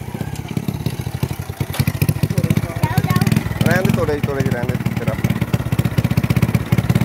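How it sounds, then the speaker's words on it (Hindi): A motorcycle engine chugs with a rapid, steady putter as the loaded bike struggles along a muddy rural road after rain, running throughout while people talk over it nearby. "बहुत मुश्किल से जा रहा है मोटरसाइकिल"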